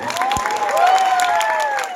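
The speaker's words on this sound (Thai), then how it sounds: "ขอเสียงปรบมือด้วยครับผม" An audience at a wellness class claps as coaches are introduced, a busy crowd patter with whistling or cheering tones riding over it.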